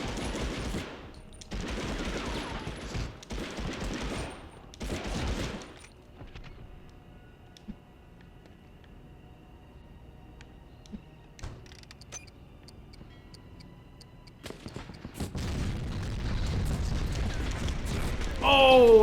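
Bursts of rapid submachine-gun fire in a PS1 video game come in several closely spaced volleys, followed by a quieter stretch of faint game noise and then a louder sustained rumble near the end.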